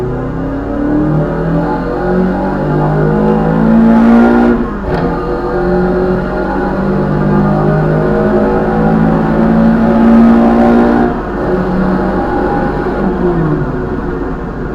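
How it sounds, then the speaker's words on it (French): A Renault Clio Williams accelerates hard, its engine climbing through two rising revs with a brief dip at each gear change, loud and close, with no voices. "là ici on va se mettre un petit coup d'accélérateur pour voir ce que ça donne en accélération"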